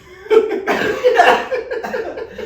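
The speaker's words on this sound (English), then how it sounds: "I apologize about a phlegmy cough." A wet, rasping, phlegmy cough from a cold bursts out several times in quick succession, close and fairly loud, with no talking.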